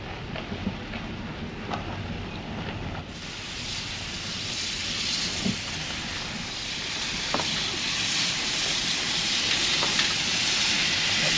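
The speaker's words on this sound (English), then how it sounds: "looks like the old train will be heading off shortly" Continuous loud steam hissing from an old steam train at Maldon railway station in Victoria fills the scene, steady and broadband, with faint clanks and a voice talking underneath.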